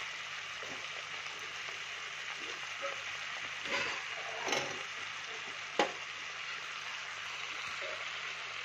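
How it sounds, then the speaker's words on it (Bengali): Half-boiled mixed dal is poured into vegetables frying in a pan, giving a steady close sizzle with a few soft splashes and stirring bumps. "এই ডালটাকে এখন এই সবজিতে ঢেলে দেব।"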